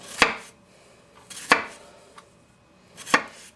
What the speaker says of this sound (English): See how thin it is going through, and it's not just tearing that onion up.